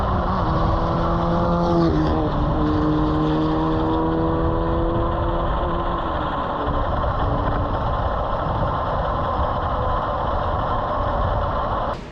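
A Formula Ford race car at a New Zealand North Island round runs with a loud, sustained engine drone whose pitch sweeps and shifts, heard up close with no talk.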